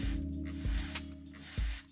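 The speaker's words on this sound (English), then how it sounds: "I'll water these using a spray nozzle as I don't want to disturb the seeds too much" Mechanical clicking and whirring hum with sharp low thumps at intervals, close and steady, with faint hissing spray overhead.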